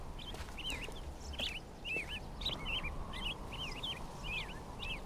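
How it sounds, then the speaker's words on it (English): Repeated bright bird chirps and tweets in the jungle island of the game Riven, several calls spread evenly across the clip over a steady outdoor background hum. "I can hear birds."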